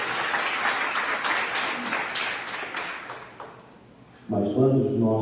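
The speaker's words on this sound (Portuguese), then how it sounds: "Você pode aplaudir o Senhor?" A church congregation applauds during a sermon, a dense wash of clapping that slowly thins out and fades before a voice resumes speaking.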